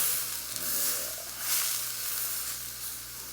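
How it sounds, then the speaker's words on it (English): A steak sears in a hot pan with melted butter and garlic, giving a continuous close hissing sizzle that swells and eases in gentle waves. "Let that sear another minute or two."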